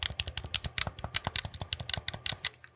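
Membrane buttons on Nixie Hyperion Pro Joy-Con controllers pressed in quick succession, giving a steady run of about two dozen soft, close tapping clicks with no talking.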